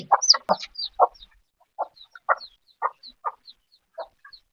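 Chickens cluck close by in short, evenly spaced bursts, with a few higher squawks mixed in against a quiet background.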